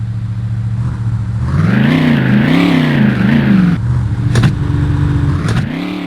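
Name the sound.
Dodge Viper engine racing in The Need for Speed video game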